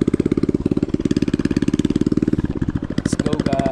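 A motorcycle engine runs close by on an island road in Sapa-Sapa, Tawi-Tawi, Philippines, with a loud, rapid, steady chugging beat that shifts slightly in pitch partway through.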